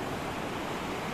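Atlantic Ocean surf rolls onto a Moroccan beach as a steady, broad wash of waves, fairly soft and continuous with no distinct breaks or voices.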